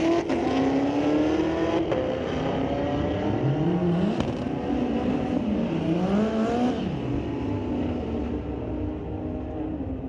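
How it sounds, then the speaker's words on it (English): A Dodge Challenger with a 392 Hemi and a Chevy Camaro ZL1 drag race at a street-legal night event, loud engines roaring and revving continuously with rising and falling pitch as the cars launch and accelerate down the strip, no talk. "All right, a Challenger and a Chevy ZL1. Who's going to get the win, a 392 Hemi or the ZL1?"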